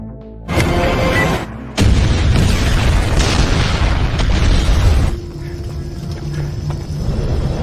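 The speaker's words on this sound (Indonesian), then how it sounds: "pada akhirnya tewas meledak dari bom yang sebelumnya sudah dia pasang oleh Tony di tepi jalan" A film roadside bomb blast erupts in a loud, close boom, cuts out briefly, then returns as a heavy rolling roar and rumble that tapers into a sustained lower debris-and-fire drone.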